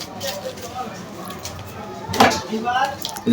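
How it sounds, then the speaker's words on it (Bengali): A stapler clamps through a paper envelope holding money in one sharp, close crunch partway through, set among soft handling rustles and a nearby voice. "স্টেপলার করে দিচ্ছি"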